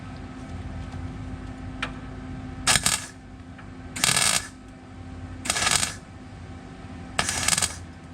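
Rusty sheet metal on a 1961 Pontiac Laurentian is hammered in four short bursts of quick metallic blows, spaced about a second or more apart, close and sharp over a quiet shop background.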